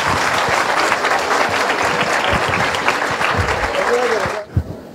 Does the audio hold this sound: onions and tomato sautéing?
no